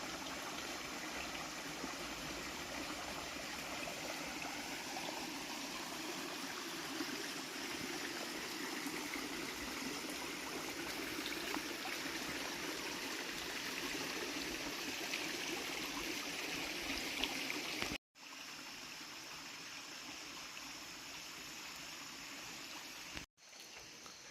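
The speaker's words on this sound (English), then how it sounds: "I am just enchanted by the sound of running water." Water from a small stream spills over a little waterfall at a lake spillway, making a steady, close rushing and trickling sound with no talk. The sound cuts out briefly twice near the end.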